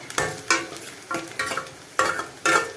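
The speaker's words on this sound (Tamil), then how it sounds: "சரி, இந்த வெங்காயம் வதங்கட்டும்" Onions sauté in a pan for a tomato curry, with several sharp bursts of sizzling as a spatula stirs them in an uneven rhythm; close and clear, no voices.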